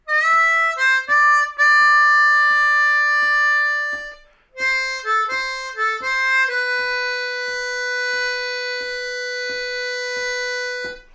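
Second blues lick on a G harmonica in 3rd position: clear, close reedy notes with short bends, a brief pause partway, then a long held tone, over steady soft ticking that keeps the beat.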